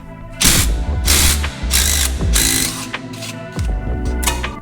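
A hand ratchet works a 12mm bolt holding the ABS sensor wire on a 2012 Subaru Forester front strut, giving repeated bursts of close, loud metallic clicking separated by brief pauses, with no talk.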